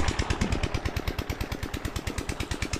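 A farm machine engine runs in a rice paddy, a steady rapid chugging thump repeating evenly throughout, fairly close and alone without talk.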